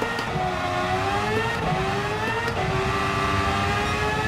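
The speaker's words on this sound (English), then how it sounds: "you can hear the engine revs just holding off as the traction control takes effect" A race car engine in Gran Turismo 7 holds loud, sustained revs that hover and dip slightly as traction control cuts in. The engine sounds close and constant, with no talk over it.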